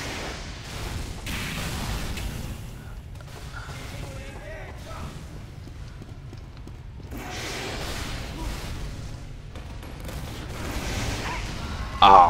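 Rockets fire and explode in the video game Team Fortress 2 in a run of dense, rumbling bursts and whooshes over continuous game noise, with a sharp spike right at the end.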